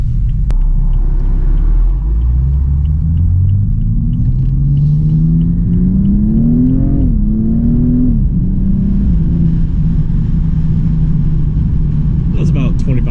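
A 2015 BMW M235i sports car engine accelerating at about a quarter throttle, a loud, close, deep drone rising steadily in pitch through the gears with a brief dip at a shift, a rumble underneath, and brief talk near the end.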